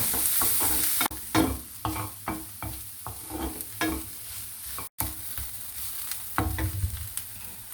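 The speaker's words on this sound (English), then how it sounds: "Now saute the onion." Onion sautés in a pan, a constant sizzle broken by a regular rhythm of spatula stirs and scrapes, close and clear, with a brief dropout midway and no talking.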